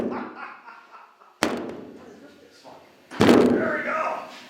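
A 1967 Mercury car door is worked by hand, with a sharp metallic clunk as it gives way and then a heavier thud and rattle of the door opening, close by with a voice talking around it.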